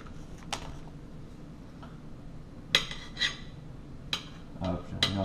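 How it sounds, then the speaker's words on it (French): A cordon bleu is sliced with an Opinel knife on a kitchen surface, giving a few short, sharp clicks and scrapes of the blade spaced across a few seconds over a low room hum. "Regardez comment je manie le couteau."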